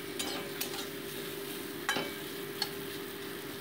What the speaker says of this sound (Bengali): উচ্ছেটা কিন্তু ভাজা আমার হয়ে এসছে। এবার আমি উচ্ছেটাকে তুলে নেব।